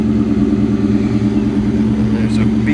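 A Terminator Cobra fitted with a Bassani/Magnaflow exhaust idles steadily after a cold start, a loud, even low rumble throughout, with faint higher sounds near the end.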